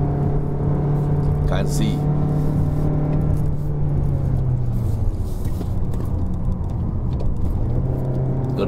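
A 2019 Mazda3 1.5L liftback climbs the Genting hill in third gear. Its engine drones steadily from inside the cabin and its pitch eases downward partway through, while a voice speaks briefly over it.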